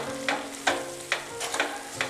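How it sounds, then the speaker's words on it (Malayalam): Chili powder and turmeric frying in oil in a pan, with a spoon scraping through the mixture in several distinct strokes over a soft, steady sizzle, close and fairly loud. "ഇനി ഈ മുളക് പൊടിയും മഞ്ഞൾപ്പൊടിയൊക്കെ ഇതിൻ്റെ അകത്ത് കിടന്ന് നന്നായിട്ടൊന്ന് വഴന്നു വരണം"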